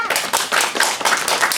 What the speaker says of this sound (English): clap your hands. Go ahead,